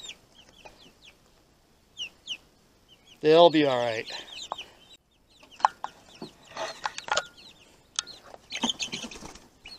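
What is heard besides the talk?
chickens clucking in a coop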